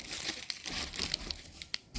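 Cardboard box and packing tape around a two-pack of Stanley two-way adjustable sawhorses being pulled open, close crinkling and ripping with several short sharp tearing snaps.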